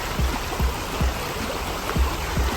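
A river near a walking path flows steadily with a soft, continuous rush of water and faint dripping taps, alone and fairly distant.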